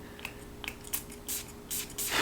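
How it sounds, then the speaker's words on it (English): A perfume atomizer on a Chatillon Lux Admiral bottle gives a couple of soft spritzes, short airy hisses with a louder final burst, preceded by faint clicks and handling of the bottle. "So let's give it a couple of sprays."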